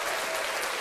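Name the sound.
applause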